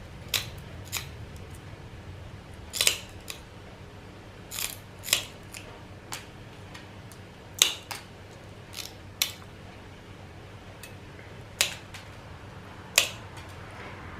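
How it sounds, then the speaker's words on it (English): Stained glass mosaic pieces nipped at the corners with glass nippers, giving sharp, crisp snaps spaced irregularly a second or two apart, close and fairly loud over a quiet background. "I just want to cut the 4 corners off"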